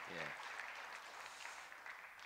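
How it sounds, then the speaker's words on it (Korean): Church congregation applauding at a Korean spring Bible conference service, a dense steady wash of clapping through the whole stretch, with a brief voice near the start. "박수로 환영하겠습니다"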